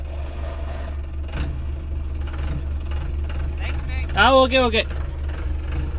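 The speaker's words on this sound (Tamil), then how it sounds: "ஃபாரஸ்ட் வண்டி வந்துருச்சு" A forest department jeep on a road in Munnar at night, its engine a steady low rumble under a continuous vehicle drone, with a short burst of a horn or siren-like tone near the end and brief talk.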